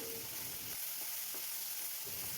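Food frying in a pan for a simple maida and suji snack is stirred, giving a steady close sizzle with soft scraping strokes of the spoon and no voices.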